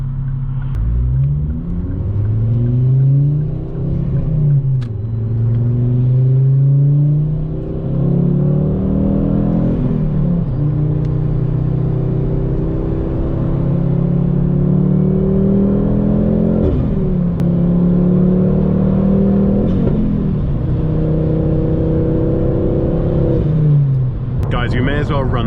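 Revo Stage 2 tuned Ford Focus ST225 hatchback driving through traffic, its engine droning steadily with repeated rises and falls in pitch as it pulls through gears, with someone talking over it throughout.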